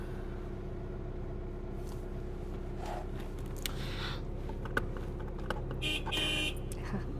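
A car horn honks briefly in city traffic near the end, heard from inside a car during driving practice over a steady low engine and road hum.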